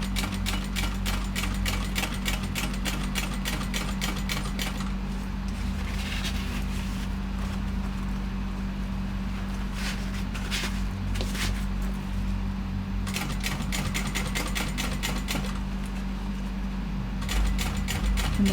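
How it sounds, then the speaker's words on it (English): Sewing machine stitching a shoulder bag, running steadily and close with a fast, even needle rhythm and a constant motor hum that briefly slows and restarts; no talk. "I'm going to start on the left side, making sure that everything is out of the way as I sew this on"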